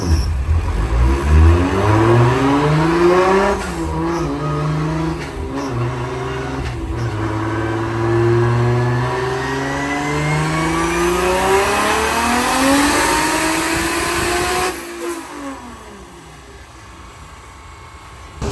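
Nissan S13 with a 1.5JZ engine and a turbo, revving hard through a dyno pull, its note climbing and falling in long sweeps, loud and close, before cutting out abruptly near the end.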